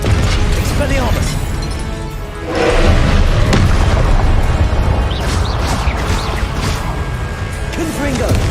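The Expelliarmus spell is cast in the video game Hogwarts Legacy, with loud magical bursts and booming impacts over a dense, busy combat soundscape while a voice speaks throughout.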